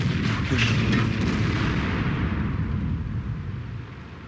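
Tank cannon fire from a JgPz E 100 tank destroyer in World of Tanks, one heavy booming blast near the start with a long rumbling tail that slowly fades over several seconds.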